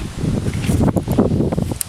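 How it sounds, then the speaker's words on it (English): Gusty wind blows in an outdoor backyard, buffeting the microphone with loud, uneven rumbles and a faint rustle of leaves. "it's way too windy back here"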